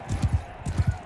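Horse hooves clopping in Mount & Blade 2: Bannerlord, two quick triple-beat bursts of close, dull thuds in a short gallop rhythm.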